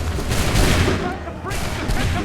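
A musket volley fired by a line of soldiers in the Battle of Bunker Hill in Assassin's Creed 3, heard as a loud, dense crackle of shots over about two seconds with a voice shouting over it.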